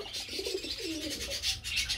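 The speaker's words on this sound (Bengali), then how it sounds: "কিভাবে ডাকে কবুতর?" A soft, low pigeon coo rises and falls twice, fairly quiet against a steady background hiss.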